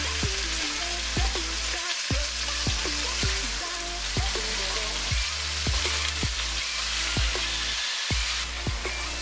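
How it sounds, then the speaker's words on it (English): Pieces of rabbit sizzle steadily in about a centimeter of hot olive oil in a large pot, a dense crackling fry with scattered sharp pops throughout. "In a large pot, add about 1 centimeter of olive oil, and when it's hot,"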